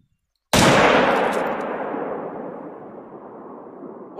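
One loud, close rifle shot in theHunter: Call of the Wild breaks a silence and then fades in a long rolling echo.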